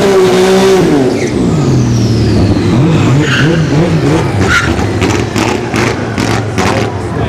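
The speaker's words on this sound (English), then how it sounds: "Got the V6 Mustang here" A V6 Ford Mustang runs down a dragstrip at a test-and-tune event, engine note rising and dropping through gear shifts, loud and close at first, then fading into a rumbling pass with background voices.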